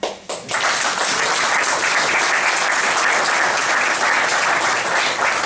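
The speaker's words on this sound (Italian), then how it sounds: "Vogliamo fare un applauso alla Sagrada Civitanova che è nata in Serie B." A large audience applauds at a volleyball schools convention, with dense, steady clapping that swells in after a brief start and holds loud and continuous throughout.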